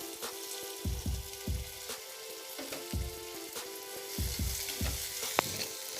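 Dried red chilies fry in oil with a soft, continuous sizzle, broken by repeated low thumps and scrapes of stirring in the pan, with a single sharp click near the end.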